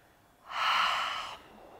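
A single soft ujjayi yoga breath, a half-voiced 'ha' exhale finished through the nose with lips closed, a smooth airy rush lasting about a second in a quiet room.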